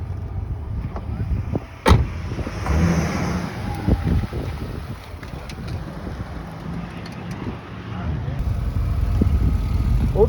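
A car drives on the Dreux racing circuit, its engine a steady rumble under heavy wind buffeting, rising toward the end as it accelerates, with people talking inside over the noise.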